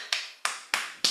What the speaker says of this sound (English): So beginning on the lower belly, tapping your way all the way up onto your chest.